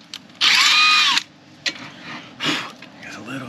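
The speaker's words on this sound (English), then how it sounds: "Drill the one hole out bigger." A power drill enlarging a bolt hole whirs loudly with a high, steady whine for under a second, then cuts out; someone speaks briefly afterward over a quiet background.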